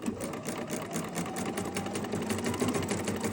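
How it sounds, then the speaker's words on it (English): A sewing machine runs steadily while curved seams are stitched on a quilt, including a brief back stitch, its needle chatter continuous and close with no pauses. "Back stitch."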